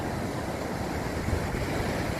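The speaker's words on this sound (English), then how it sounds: "Let's look at these waves." Steady roar of ocean surf with waves breaking continuously, broad and rushing, with some wind noise buffeting the microphone.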